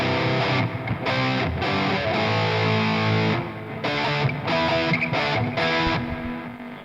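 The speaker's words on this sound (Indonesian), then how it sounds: "Distorsi ya." Electric guitar played through a distortion patch on a Valeton GP-200 multi-effects unit: thick, saturated chords ring out continuously at steady loudness, with brief chord changes and no talking.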